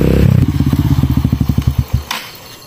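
A motorcycle engine revs hard up close, then drops into a rapid run of rhythmic chugging pulses that slow and fade, ending with a sharp clack.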